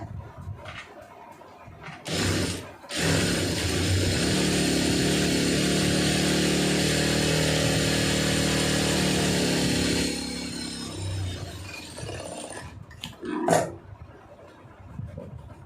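Domestic sewing machine stitching a blouse lining, running in one steady loud whirring burst for several seconds after brief handling sounds, then stopping.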